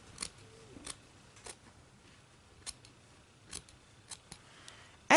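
Scissors snipping through a t-shirt, a series of short, crisp cuts spaced irregularly with quiet gaps between them, close and fairly faint.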